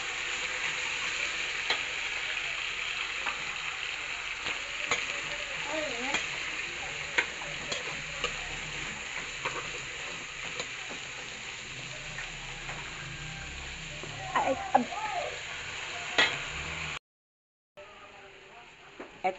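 Pork for mechado sizzles and fries steadily in a pan, with occasional scraping stirs, and the sizzle continues under soft talking.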